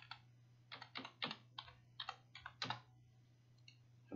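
Computer keyboard keys are pressed during a session in Altium 18 circuit design software, giving irregular close, crisp clicks in short bursts over a steady low electrical hum.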